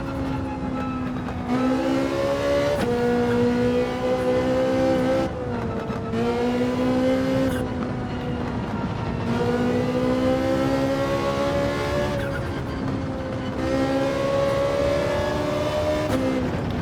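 Ferrari 458 Italia engine in a racing video game, loud and close, revving up through the gears in repeated climbing sweeps with brief drops at each shift, no talking over it.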